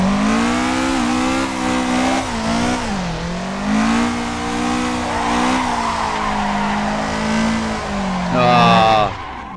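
A BMW M3 or Toyota AE86 drifting in Assetto Corsa, engine droning and rising and falling in pitch with tire squeal, ending in a sharp revving surge, loud and continuous.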